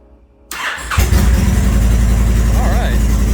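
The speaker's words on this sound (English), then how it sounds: "let's fire up the bike." A Honda Fury motorcycle engine cranks over and fires up, settling into a loud, steady, close idle rumble, with a voice talking briefly over it.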